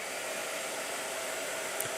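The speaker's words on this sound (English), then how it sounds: "Blow dryer." A hair dryer runs continuously with a steady, loud airy roar and even blowing noise from start to end, close by and alone.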